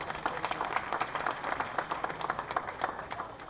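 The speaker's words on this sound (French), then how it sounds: "Vous aussi méritez les applaudissements." Audience applauding at a Haitian presidential ceremony, a steady wash of many hands clapping at moderate distance, fairly soft and continuous.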